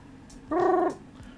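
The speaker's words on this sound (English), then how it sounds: "That's my cat." A single short, tonal meow-like cry, close and fairly loud, rising out of quiet background for about half a second.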